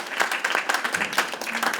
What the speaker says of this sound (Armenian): Եվս մեկ անգամ ավելի բարձր, ավելի ջերմ ծափերով։